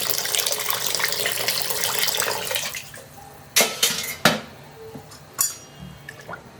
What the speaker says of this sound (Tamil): இந்த ரசத்துக்கு தேவையான கன்சிஸ்டன்சி இன்னும் கொஞ்சம் தண்ணி சேர்க்கணும்.